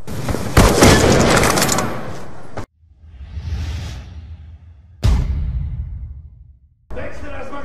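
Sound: explosive charge detonating in the video game Call of Duty Black Ops 2

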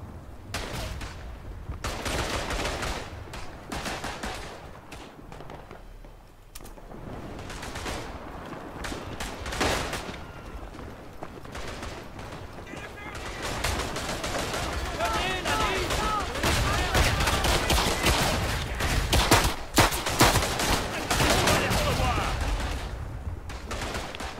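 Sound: gunfire in video game Verdun

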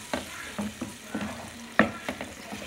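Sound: margarine melting and being stirred in a pan

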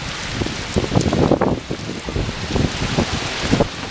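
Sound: strong wind during Hurricane Ian flooding

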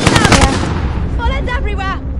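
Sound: gunfire in a video game (Call of Duty gulag)

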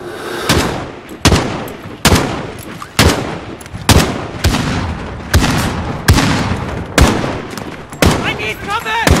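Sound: gunfire in Modern Warfare video game

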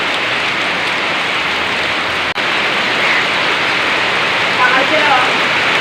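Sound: heavy rain

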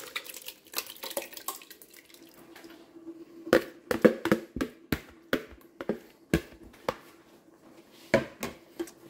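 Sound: adding crushed tomatoes to browned onions and garlic

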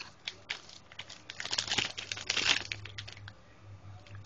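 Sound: tearing open a Topps baseball card rack pack

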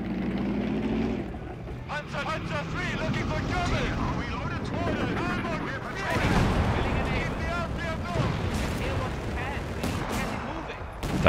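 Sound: cannon fire and explosions knocking out a vehicle, video game Company of Heroes 3

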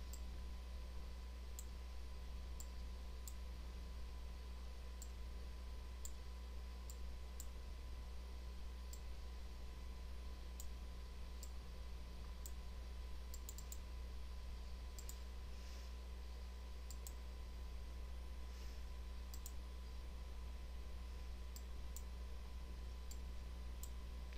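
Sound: computer mouse clicking

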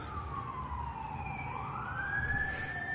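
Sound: fire truck siren at night

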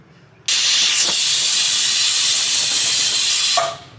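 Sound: pressure cooker whistle

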